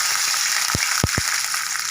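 Curry leaves dropped into hot oil for a beetroot stir-fry, a constant crackling sizzle with a few sharp pops and spits standing out near the middle.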